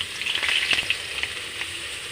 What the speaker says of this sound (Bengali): এবার আমি বেগুন ভাজবো। এবার বেগুনগুলো ছেড়ে দেবো